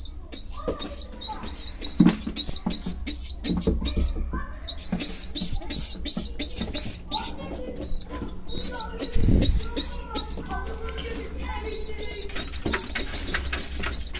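Pigeons coo repeatedly in steady, rhythmic phrases, close by, with a few chirps and brief thumps mixed in.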